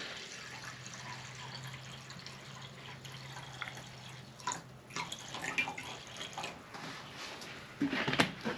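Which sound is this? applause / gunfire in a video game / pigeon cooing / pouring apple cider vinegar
pouring apple cider vinegar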